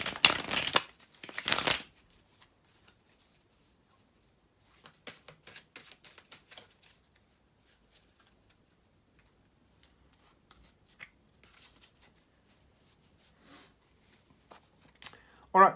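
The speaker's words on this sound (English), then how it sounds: "bear with me just a second, guys, to shuffle the tarot cards" Tarot cards are shuffled by hand, with two loud, close riffling bursts at the start followed by softer, scattered rustles and taps of the deck.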